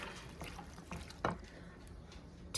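Two cups of water are poured into an au gratin potato and sauce mix in a home kitchen, giving a faint, soft splashing and trickling with a few small drips and a slightly louder splash partway through.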